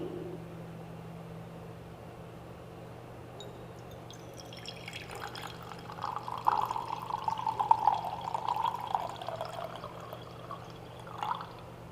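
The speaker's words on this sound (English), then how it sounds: "Now, I will add milk from this flask to the beaker." Milk is poured from a flask into a beaker, a soft, close liquid trickle that builds midway and tapers off, over a low steady background hum.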